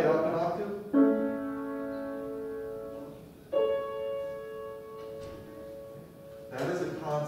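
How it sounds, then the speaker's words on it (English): A major-third interval played an octave higher, sounding as two sustained, piano-like dyads that ring out one after the other, with brief talk before and after. "It's a major third, yeah."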